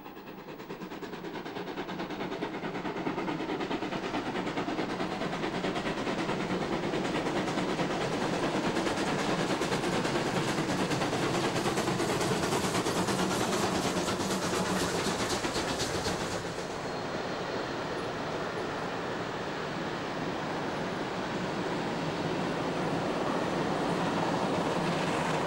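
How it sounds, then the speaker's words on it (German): A steam locomotive works hard under load nearby on the Schiefe Ebene incline in Germany, its exhaust beats blending into a loud, steady chuffing roar with rail clatter, continuous throughout. "Die Auspuffschläge verraten die Last des Zuges."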